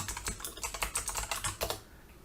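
Quick bursts of keystrokes clatter on a computer keyboard, a rapid uneven run of close taps typing out a short word, then falling quiet.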